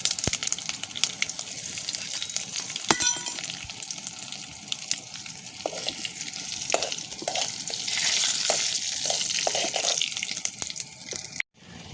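Dry red chillies and curry leaves fry in a tempering oil for Mangalorean cucumber buttermilk curry, a close, continuous sizzle with scattered crackles and light stirring, ending with a brief dropout.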